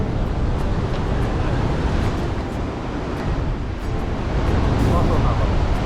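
Ocean waves wash steadily onto a Sri Lankan coast, a continuous loud broadband surge with wind noise buffeting the microphone throughout and no talk.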